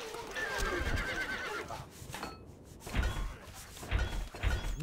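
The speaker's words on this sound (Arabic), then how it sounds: "الحصان سريع." Horse whinnies and clip-clopping hooves in the Stronghold: Crusader medieval strategy game, with a drawn-out neigh early on and several heavier hoof thuds later, mixed with other game noises.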